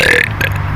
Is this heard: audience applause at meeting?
no